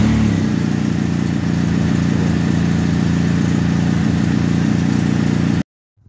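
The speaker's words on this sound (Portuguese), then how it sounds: "Aqui eu posso funcionar a moto" A BMW R 1250 motorcycle engine runs at a steady, close idle with an even mechanical rumble, then cuts off abruptly at the end.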